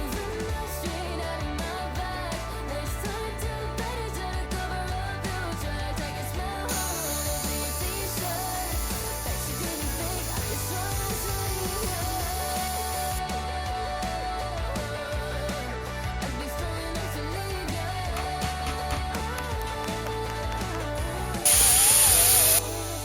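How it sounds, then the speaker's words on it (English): A power grinder works over a WW2 Jeep tub, a loud sustained high whine with shifting pitch as it bites the metal, briefly rising to a harsher screech near the end. "now we're going to grind for a second"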